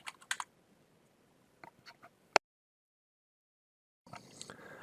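Someone types a command on a computer keyboard at a networking router console: a few scattered soft keystrokes, then one sharp click, a moment of silence, and a faint hiss at the end.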